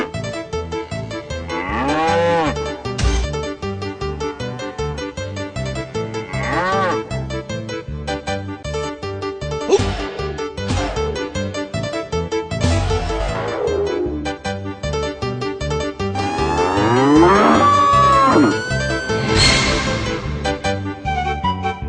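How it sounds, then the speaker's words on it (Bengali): Cartoon bull bellowing in a loud, repeated moo-like call with rising and falling pitch, set against steady background music, no speech. "একটা ষাঁড় তোমার দিকেই তেড়ে আসছে, পালাও।"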